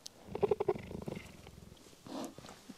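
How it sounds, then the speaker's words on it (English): A mother cheetah purrs to her young cubs, a close rhythmic rumbling that pulses for a second or so, then fades into softer low calls and breaths. "It's going to purr."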